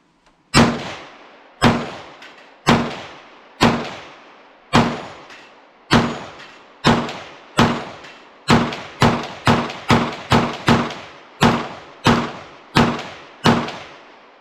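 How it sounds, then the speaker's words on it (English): Old stored ammunition rounds fired one after another, sixteen sharp close gunshots with quick decaying tails, evenly spaced at first, then coming faster in a tighter cluster before spacing out again. "Let's go ahead and just keep popping off rounds and see what we've got."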